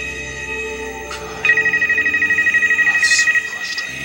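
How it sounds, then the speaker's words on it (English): A telephone rings with a steady electronic trill that pulses for about two seconds at moderate loudness, while background voices murmur throughout. "if that phone keeps ringing"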